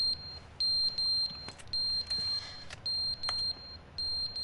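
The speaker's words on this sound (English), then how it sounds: "What is that beeping?" Beeping in the video game Stanley Parable Ultra Deluxe: a high, shrill electronic beep repeating in short regular bursts about every half second, sharp and clear over a faint background hum.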